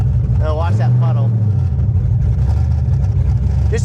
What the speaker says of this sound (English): Todd's already hitting the throttle on this thing